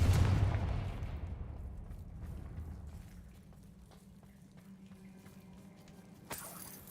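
A Confringo blasting spell from Hogwarts Legacy erupts in a loud, booming burst at the start, then decays into a long low rumbling tail, with a fresh crackle near the end.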